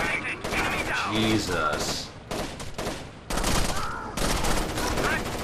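Loud bursts of rapid gunfire in the tactical shooter video game Rainbow Six Vegas 2, with repeated volleys and two brief lulls, while players talk over the shooting.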